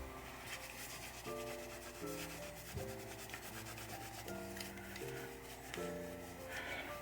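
Steady rubbing strokes as a pinball flipper bat is hand polished to blend out fine scratches, continuous and close, running beneath louder background music.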